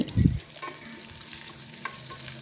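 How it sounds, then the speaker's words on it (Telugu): Oil tempering with asafoetida and curry leaves for a raw mango pachadi: a brief soft thump at the start, then a steady close frying sizzle with a couple of faint clicks. "ఇప్పుడు వీటన్నిటిని బాగా వేగనిచ్చి"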